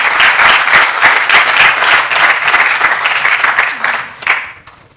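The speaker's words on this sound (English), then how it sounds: "Can we kindly give them a round of applause for supporting us?" Loud audience applause at an annual scientific network meeting, a dense burst of many hands clapping that thins into scattered claps and fades at the end.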